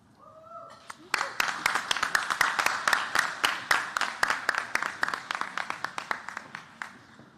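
An audience at a human rights celebration gala claps steadily and fairly close for about six seconds after a brief spoken lead-in, the many hands blending into dense, even applause that holds its level.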